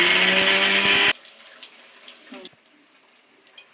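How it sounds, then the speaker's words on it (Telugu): A mixer grinder whirs loudly grinding tamarind for about a second, then cuts off, leaving soft clinks and handling noises of the jar. "చింతపండును మిక్సీలో వేసుకొని మిక్సీ పట్టుకోవాలి"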